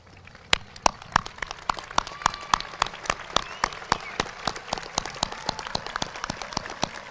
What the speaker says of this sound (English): I think they deserve a standing applause